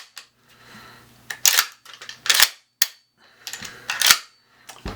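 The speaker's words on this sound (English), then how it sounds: "And the shotgun does cycle." A Remington 870 shotgun fitted with a three-shell magazine extension and 20-inch barrel is pumped repeatedly, giving sharp metallic clack-clack pairs, close and loud, separated by short pauses and with no speech.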